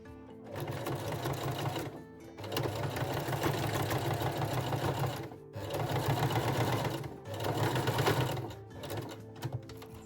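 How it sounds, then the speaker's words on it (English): Sewing machine top stitching a bralette closure with a straight stitch, three long steady runs of fast, close, loud motor whir and needle chatter separated by short pauses, with no voices. "So now we can top stitch the closure with a straight stitch to have a clean finish."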